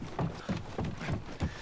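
Horse hooves clip-clop at a steady trot in The Last of Us, about five distinct thudding steps in quick rhythm, close and clear with no talking.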